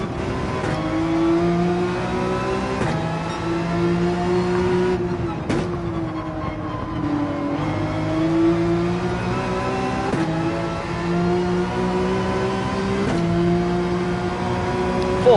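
Race car engine held at full throttle in a racing video game, a loud continuous close roar with steady harmonic whine, brief dips and shifts around gear changes, faint chatter beneath.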